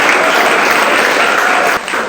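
Students at a classroom debate on online versus offline shopping clap loudly together in a dense, continuous burst that drops off abruptly near the end.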